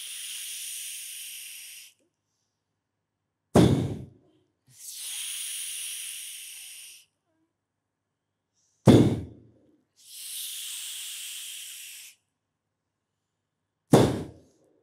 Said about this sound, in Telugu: శ్వాస తీసుకోవాలి, ఛాతి నిండా వెలుగు మాదిరిగా గుంజాలి బాగా